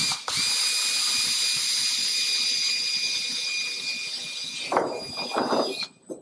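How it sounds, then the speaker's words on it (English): A power drill bores into an aircraft aileron rib, a high steady whine lasting several seconds close up, then stopping with a few metallic clicks and handling sounds. "Push that spar or that rib over enough to drill it."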